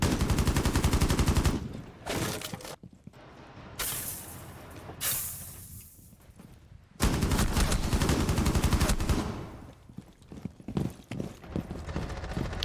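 Gunfire from a player shooting in a first-person video game, heard as rapid bursts of automatic fire with brief pauses between strings of shots, loud and continuous, with no voices.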